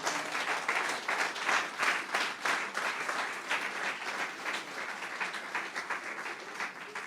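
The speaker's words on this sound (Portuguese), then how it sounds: "E era uma grande oportunidade que você tinha de dar um aplauso para Jesus." A church congregation applauds during a sermon, the clapping fairly soft and distant, rising in a lively burst at first then settling into a steadier patter that gradually eases off.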